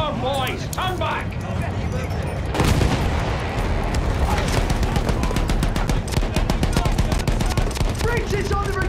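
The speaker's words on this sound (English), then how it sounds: "Continue suppressing fire!" Battlefield 1 machine gun suppressing fire on a muddy World War I battlefield, with sustained rapid bursts, a heavy boom and shouted voices over the din.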